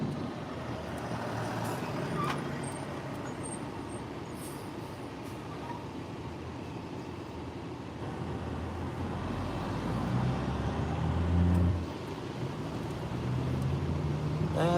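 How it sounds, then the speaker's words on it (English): A tub grinder truck drives past on a road in Lexington, Nebraska, a steady heavy rumble of engine and rolling wheels that swells louder near the end as it goes by, with no talk. "Oh, it's a tub grinder."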